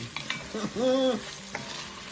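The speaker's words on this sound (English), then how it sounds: "I'm gonna let it saute for about 5 minutes" Thyme sautes with garlic in a pan for chicken and dumplings, a steady close sizzle with a few stirring scrapes and one brief tonal whistle partway through, no talking.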